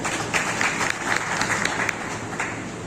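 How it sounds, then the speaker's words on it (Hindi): Applause from the audience at a journalists' honour and felicitation ceremony in Balaghat, a dense steady burst of many hands clapping, loud and sustained throughout. "हमारे सलमान कुरैशी जी, इस सलमान के लिए स्पेशल ताली बस्ती"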